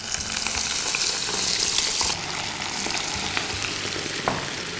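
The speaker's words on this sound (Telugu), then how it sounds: "నూనె వేడైంది. ఈ పీసెస్ దీంట్లో ఒక్కొక్కటి వేయాలి." Ginger cashew fish pieces deep frying in hot oil, a steady close sizzle and crackle that continues throughout with no talking.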